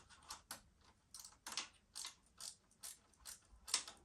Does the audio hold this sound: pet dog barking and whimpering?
no